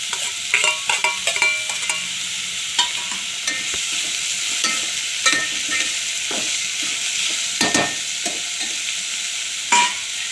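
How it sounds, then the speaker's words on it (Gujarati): Capsicum peppers frying in a pan for homemade pizza, with steady close sizzling and repeated scraping stir strokes throughout, no voices. "થોડી ફ્રાય થાય એટલે એમાં કેપ્સિકમ મરચાં અને ટમેટા એડ કરવાના"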